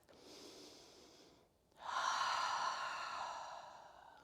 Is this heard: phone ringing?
no